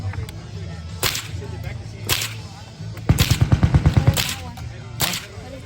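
Machine guns are fired, with single sharp cracks spaced about a second apart. A rapid burst of roughly ten evenly spaced shots follows, then one more loud report, all close and dominant.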